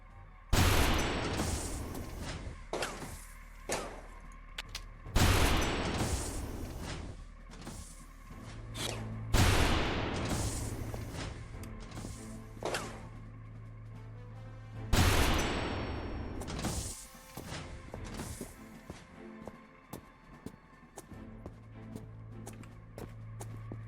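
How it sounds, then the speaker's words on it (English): Plasma accelerator fire from a sci-fi shooter video game comes in four heavy bursts spaced about five seconds apart, each one a loud blast. Clicks and mechanical sounds fill the gaps between them. "I will shoot them with my plasma accelerator"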